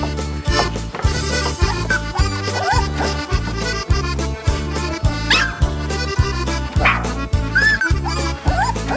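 Sheepdog puppies only a few weeks old at a highland sheep farm give out high yips and whimpers, mixed into steady, rhythmic, beat-driven music that plays throughout.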